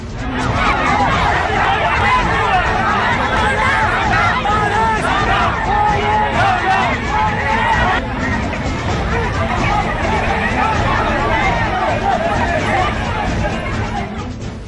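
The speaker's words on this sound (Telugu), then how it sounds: "మా కొద్దీ ఫార్మా ఫ్యాక్టరీ అని జనం నినదిస్తున్నారు" A crowd of local villagers chants slogans in protest against the Divis pharma factory expansion, a loud, dense wall of massed voices and shouting that continues without a break, close and overlapping.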